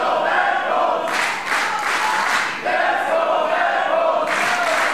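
A wrestling crowd at an Unlimited Wrestling show cheers and claps in support of Bad Bones, a steady roar of applause and shouting swelling in bursts, loud and close throughout.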